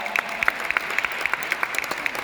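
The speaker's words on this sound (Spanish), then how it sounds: "quiero un aplauso nuevamente para el presidente del condado." An audience at a Hispanic Heritage Month event inside a science museum hall applauds, a crowd of hands clapping continuously with sharp close claps and a few whoops over the wash.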